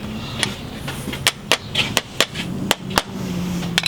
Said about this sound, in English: So your goal is always 4 hammer swings.